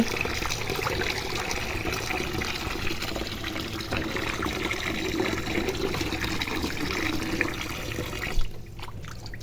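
Water runs steadily from a tap as raw chicken is washed clean, a continuous splashing stream that cuts off abruptly near the end.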